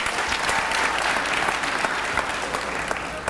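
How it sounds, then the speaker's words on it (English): Sustained applause from a crowd at a school athletic signing day, dense steady clapping with no pauses, fairly close and loud throughout. "I want another round of applause for the student athletes today."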